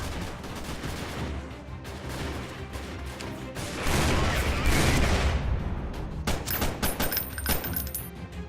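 Heavy .50 cal gunfire from the video game Freeman: Guerrilla Warfare, dense sustained bursts of shots that swell louder midway, with crackling impacts and rattling fire continuing to the end.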